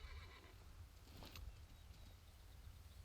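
Horse whinnying in the video game Realm Royale, a faint high neigh about a second in over a constant low game-ambience rumble, fairly distant and alone without talk.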